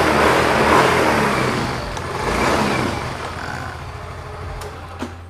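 A second-hand motorcycle engine, one offered for sale, starts and runs close by, a loud steady idle that swells and eases slightly, with a couple of faint clicks near the end.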